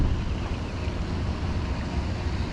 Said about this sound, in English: that's a little bit of the wind